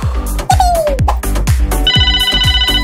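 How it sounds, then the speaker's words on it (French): A telephone rings with rhythmic electronic tones over a punchy, bouncy music track with repeated thumping beats and sliding melodic sounds, loud and close. "Mais voilà Ben qui téléphone"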